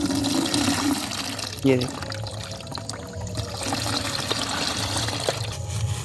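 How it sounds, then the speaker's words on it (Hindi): Water is poured through a mesh strainer in a farm field to filter out grit before mixing pesticide, a steady splashing gush and trickle with a person talking over it. "वो पानी में थोड़ा कंकड़ है, इसलिए उसको जाली से छान रहे हैं।"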